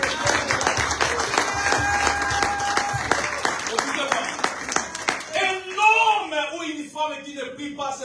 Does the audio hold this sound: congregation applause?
yes